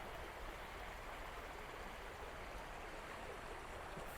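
A river flows beneath a stone bridge on a riverside walk between Youlgreave and Alport, giving a steady, even broadband rush of water that holds unchanged throughout, fairly close and moderately loud, with no voices.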